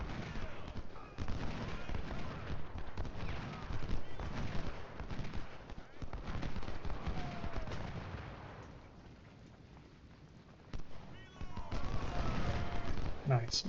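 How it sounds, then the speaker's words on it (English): Booming cannon shots from artillery in the Ultimate General Civil War video game at Prairie Grove, scattered among battle noise and horses, with people talking over it. "we've got artillery"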